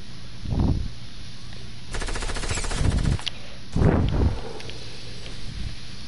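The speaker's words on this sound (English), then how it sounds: "I was getting shot at." Video game gunfire aimed at the player: a dense burst of automatic fire in the middle, framed by a few heavy single reports over a steady hiss.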